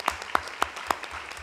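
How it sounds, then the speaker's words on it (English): At a school event, a small audience gives a brief round of applause heard as a few sparse, evenly spaced claps, fairly close and moderately loud. "So one last round of applause."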